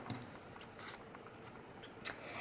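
Scissors cut a curved daffodil petal out of paper, giving a few faint, close snips and soft paper rustles spread over a couple of seconds.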